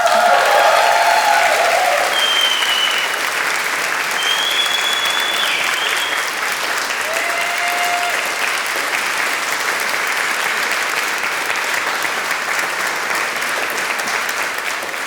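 An audience at a summer school event applauds Klára with sustained, dense clapping that holds steady for about fifteen seconds and fades only slightly toward the end, loud and close.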